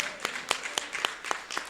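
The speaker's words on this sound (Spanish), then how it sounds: "Ese aplauso es para el Señor." Congregation at a church service clapping in a brief, loose rhythm of distinct sharp claps, sparse and moderately close, with no voices.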